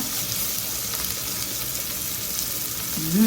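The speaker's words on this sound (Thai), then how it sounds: "เราก็ใส่หมูค่ะ ลงไปทอดกับเนยก่อนนะคะ" Pork frying in butter with onions gives a steady, close sizzle with soft bubbling, and stirring noise swells briefly near the end, with no talking.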